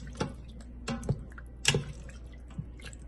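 A spoon works through a sambar and rice mixture with added water, giving a few soft, wet squelches and drips, quiet and irregular.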